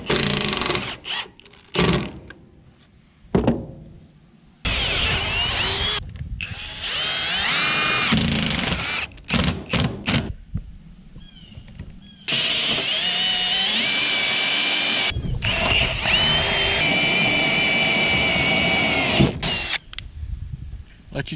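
A power drill bores holes into the steel frame of an equipment trailer, whining loudly in long bursts with short pauses and stops between runs, close and alone without speech.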